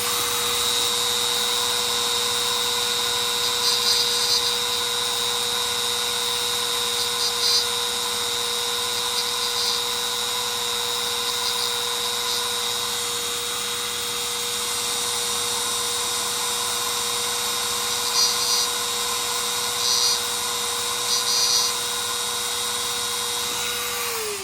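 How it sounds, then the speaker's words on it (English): Rotary tool dimpling the pins of an old 1920–40 Case Tadpole pocket knife, a steady high-pitched whine running continuously with slight wavers in pitch, close and prominent. "I just put a little dimple there on both of those pins"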